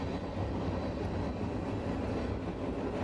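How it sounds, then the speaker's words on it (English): A small Union Pacific manifest freight train led by a couple of UP locomotives rolls past a trackside spot in Greeley, Colorado, making a continuous broad rumble with steady wheel clatter, loud and unbroken. "So a couple of UP motors and a decent-sized manifest train here."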